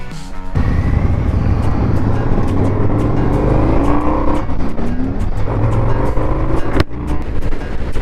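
An Indian FTR1200 motorcycle rides past at speed, its loud engine roaring steadily with rising and falling revs as it accelerates, a brief dip near the end, no talking.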